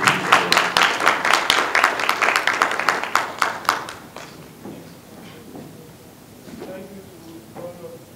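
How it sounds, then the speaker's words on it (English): An audience claps for the panelists at the closing ceremony of a West African regional summit, a loud, dense burst of applause for about four seconds that then fades into scattered claps and faint murmuring. "Another round of applause for them, please."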